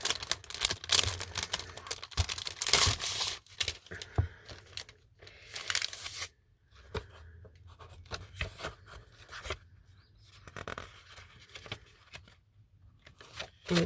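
Plastic wrapping being opened on a Toga paper pad, close crinkling, tearing and rustling in irregular bursts with short quiet gaps, no talk.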